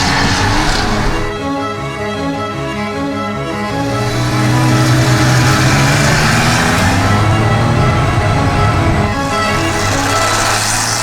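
A Porsche 911 set up as a weekend racer, its engine droning steadily from inside the car while driving, with a low rumble that lifts in pitch partway through as it pulls harder, loud and continuous.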